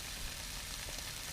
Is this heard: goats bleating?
no